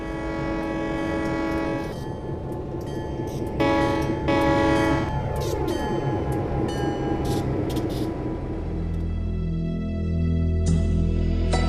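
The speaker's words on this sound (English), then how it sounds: "the horns that are used aren't accurate for Southern Pacific" A Southern Pacific locomotive horn in Train Simulator on the Donner Pass route blows several loud sustained chord blasts, broken by short gaps, over running rail sounds that shift in pitch as the train passes.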